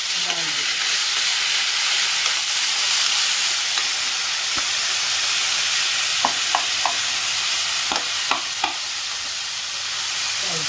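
Lentils fry in a pan with a steady, close sizzle and hiss, while a utensil stirs them with a few sharp scrapes and clinks near the end.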